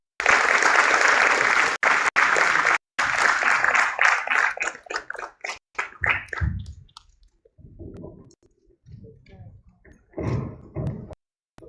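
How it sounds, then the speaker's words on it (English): Audience applause welcoming a panel speaker at a conference panel session, a dense loud clapping wash for about three seconds that breaks into scattered claps and thins out, ending with a few isolated claps and some speech. "with a huge round of applause, please giving a grand welcome to Mr. Aroop Mohapatra."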